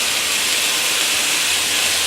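A pan sizzling on a stove while chicken pot pie is being made, giving a loud, steady broadband hiss that continues unbroken and close up.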